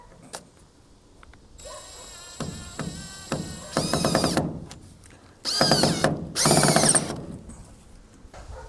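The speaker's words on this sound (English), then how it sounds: "I just put a screw in here and I just drill right through the other tarp." A power drill drives a screw through a tarp on a rabbit shed, giving several short whirring bursts with mechanical clicks and thunks between them, fairly close and moderately loud.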